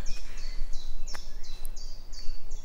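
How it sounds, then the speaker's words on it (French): Small birds sing in a forest, a repeated series of high, bright phrases of even rhythm with a couple of sharp chirps, moderately near over a soft background hush. "vous pouvez entendre les oiseaux"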